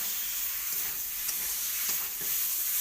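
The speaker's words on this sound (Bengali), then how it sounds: "এটাকেও ভালোভাবে কষবো অনেকক্ষণ ধরে।" Vegetables frying in spice paste in a wok, a dense, even hissing sizzle with a few faint stirring knocks, close and steady with no voices.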